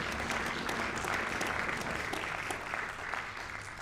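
Applause from the audience at a jazz ensemble concert, a moderate crowd clapping steadily with some sharper individual claps, fairly quiet and sustained across the whole stretch.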